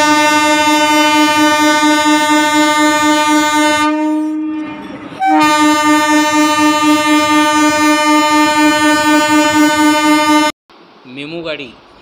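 An Amravati–Bhusawal MEMU train at its inauguration sounds a loud, close, sustained horn blast that breaks off briefly and then resumes, before a short different sound at the end.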